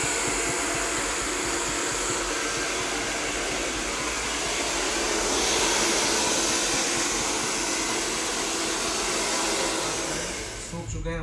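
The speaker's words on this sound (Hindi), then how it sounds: "हेयर ड्रायर से इस बालों को सिर्फ कुछ नहीं करना, कुछ भी नहीं, सिर्फ और इसको सुखाना है हल्का हल्का।" A hair dryer blows steadily while drying a men's hair patch, a loud, close, continuous whooshing roar that holds for about ten seconds before cutting off at the end.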